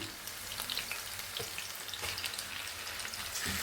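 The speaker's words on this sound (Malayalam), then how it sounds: "ഇനി നമുക്ക് നമ്മുടെ മീൻ കഷ്ണങ്ങൾ കുറച്ച് കുറച്ചായിട്ട് വറുത്തെടുക്കാം" Close, bubbling sizzle of pieces frying in oil, with scattered pops and light spatters over a steady hiss, no talking.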